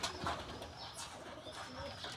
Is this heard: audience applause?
no